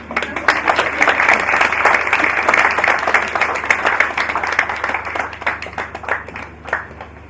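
Audience at a Nigerian stock exchange hackathon event applauding after a keynote speech, a moderate, even patter of many hands that thins toward the end, with scattered sharper claps standing out.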